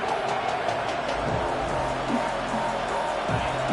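Stadium crowd noise from a college football video game, Texas at Florida, a steady dense roar that holds loud and even throughout with no pauses.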